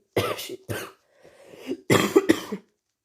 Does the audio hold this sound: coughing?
yes